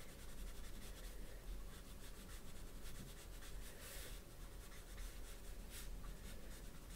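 Copic alcohol marker, an E50 shade, rubbed back and forth on paper to blend a sandy area, giving a close, continuous soft scratchy rubbing with a steady rhythm and a faint hum beneath, no talking.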